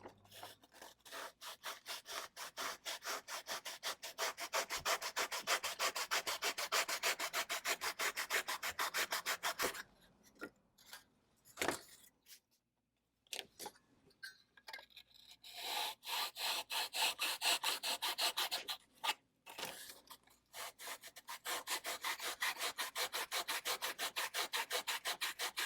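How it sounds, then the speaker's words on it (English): A razor saw cuts through a model saguaro cactus in steady, rapid rasping strokes, close and loud, pausing briefly midway before the sawing resumes. "And we'll use a razor saw to cut through this."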